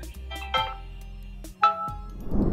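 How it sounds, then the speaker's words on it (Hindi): The default notification sound on an Android phone plays as a preview: two short, bright electronic chimes about a second apart, clear and close, with no talking. "यहाँ पे आपको मिलता है डिफ़ॉल्ट नोटिफिकेशन साउंड।"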